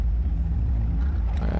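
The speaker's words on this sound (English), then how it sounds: "That sounds like a distorted car too." A distorted car sound inside an electronic music track: a brief, steady, low, grinding rumble with no voices.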